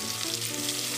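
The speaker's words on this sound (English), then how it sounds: "in the pot, we have burning butter and onions" Butter and onions frying in a pot, with vegetables about to go in, give a steady close-up sizzle and crackle throughout with no pauses.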